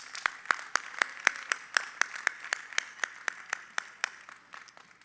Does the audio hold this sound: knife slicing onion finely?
no